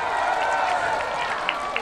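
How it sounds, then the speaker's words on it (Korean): A crowd at the Goheung citron (yuja) festival applauds a musician outdoors with continuous, moderately loud clapping. A few sharper claps stand out near the end. "우리 뮤지션에 다시 한번 뜨거운 박수 보내주시고 가겠습니다."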